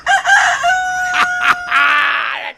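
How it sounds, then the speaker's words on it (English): A rooster crowing sound effect plays loud and close, one long drawn-out cock-a-doodle-doo with a rising, sustained final note, heard alone without talk. "That's a nobody's above the law rooster right next to us."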